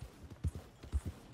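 Horse hooves in Red Dead Redemption 2, with soft, uneven clip-clop thuds at a walking pace. Faint and low, with several hoofbeats in about a second and a half and no talk.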